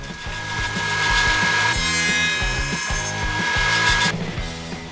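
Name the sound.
sawing a dado into wooden side boards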